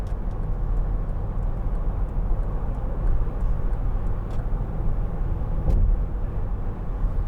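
Cabin noise from a 2005 Volvo XC90 2.4 D diesel cruising at 70 mph: a steady low engine and road rumble with broadband wind roar, continuous and even, with no talking.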